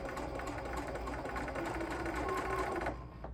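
A sewing machine runs steadily at a moderate pace while top stitching a quilted placemat, a close, continuous mechanical whir that slows and stops after about three seconds.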